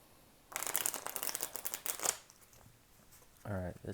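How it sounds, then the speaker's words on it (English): A deck of tarot cards is riffle-shuffled in a quick burst of rapid papery flutters lasting about a second and a half, followed by a brief pause and then a voice speaking. "Alright, this deck is ready. A few more shuffles."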